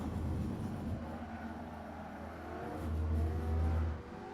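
A Lamborghini Sesto Elemento engine pulls hard in third gear on the Monza circuit, a loud, sustained roar from inside the car that swells near the end.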